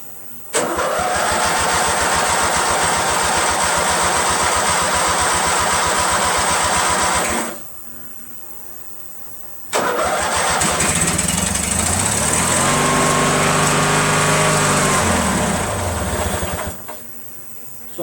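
A Briggs & Stratton opposed-twin engine started on full throttle with choke, clattering close and loud as it fires, runs for several seconds, cuts out, then restarts and revs unevenly before stalling.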